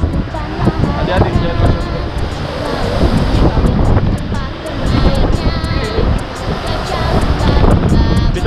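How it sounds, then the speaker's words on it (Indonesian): Ocean waves and gusty wind on a sandy beach, a steady loud roar with wind buffeting the microphone and surf washing in continuously, people's voices faintly mixed in. "Ombak guys, ombak."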